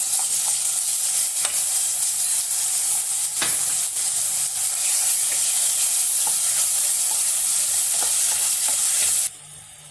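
Chopped onion and ginger-garlic paste fry in a pan, a loud steady sizzle with occasional scrapes as it is stirred, heard close up with no voices, until the hiss drops away sharply at the very end.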